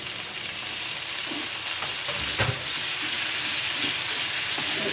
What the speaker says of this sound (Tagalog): Gisa lang natin muna ito.